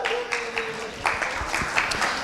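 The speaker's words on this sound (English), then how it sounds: "so big round of applause for Rollins." A business-event audience claps for Rollins Center for Advanced Entrepreneurship in a short burst of mixed, uneven handclaps, close and moderately loud, with a voice briefly audible near the start.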